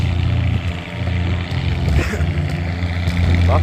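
An antique Cockshutt tractor in first gear during an antique tractor pull, its engine a loud, steady low rumble with rising and falling revs, close by, while an announcer talks over it.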